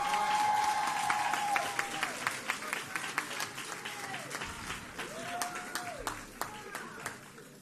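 Applause from the audience at an oratorical contest awards ceremony, a steady patter of many hands clapping at moderate distance that slowly thins out, with a speaker's voice running over it in places.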